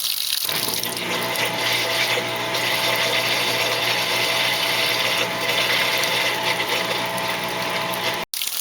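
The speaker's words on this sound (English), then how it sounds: "So here we are in the rinse cycle still. Look how much water it's getting." Water gushes steadily into a Maytag Centennial HE washing machine, model MVWC415, during the rinse cycle, a loud continuous rushing fill with a faint mechanical hum beneath and a sharp click near the end.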